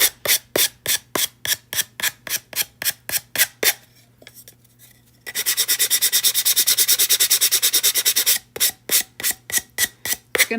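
Pink pieces being sanded by hand, a rhythmic series of short scratchy rasping strokes, then a continuous scrubbing stretch, then more quick strokes, close and with no voices.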